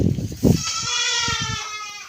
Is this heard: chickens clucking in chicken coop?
no